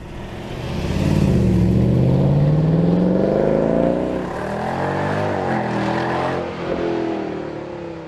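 Convertibles and sports cars, such as a Ferrari 328 GTS, Ford Mustang and Porsche Boxster S, drive through Romanshorn on Swiss cabriolet day; a loud engine swells and revs as it passes close by, followed by further steady engine noise.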